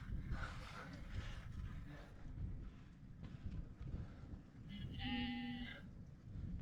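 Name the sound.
sheep bleating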